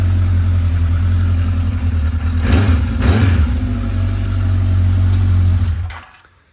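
A Honda CB1100F inline-four motorcycle engine, not yet fully warmed, runs with a steady loud rumbling idle and a couple of brief revs mid-way before being shut off and cutting to silence.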